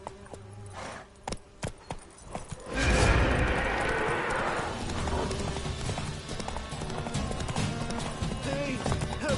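Horse Roach in The Witcher 3 trotting with sparse clip-clop hoofbeats, then breaking into a louder, denser gallop with rustling movement that continues to the end.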